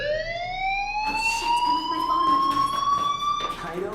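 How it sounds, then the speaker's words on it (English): A fire alarm in the video game Life is Strange Remastered rings out, a loud electronic tone whose pitch rises steadily with strong harmonics, continuous throughout with a faint background murmur beneath it. "Hey, do you hear that fire alarm?"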